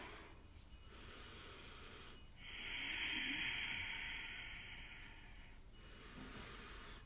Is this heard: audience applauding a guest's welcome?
no